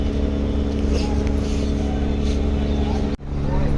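Shuvraj 9, a passenger launch, rumbles steadily with a loud low engine drone as it approaches the ghat, broad water and wind noise over it, and a brief dropout near the end.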